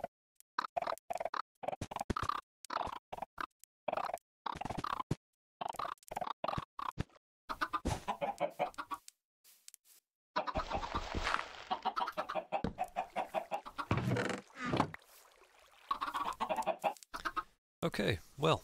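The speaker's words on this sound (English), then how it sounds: "That is the chicken farm." Chickens on a chicken farm in the Minecraft video game, repeated short clucks in a busy, irregular series, close and fairly loud, with clustered bursts and a few brief pauses.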